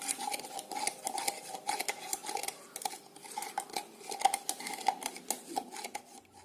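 A spoon clinks and taps against a glass while sugar is stirred into water to dissolve it, giving rapid, irregular metallic ticks and scrapes, close and fairly quiet with no voices.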